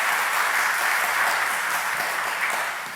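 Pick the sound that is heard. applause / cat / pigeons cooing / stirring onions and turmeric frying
applause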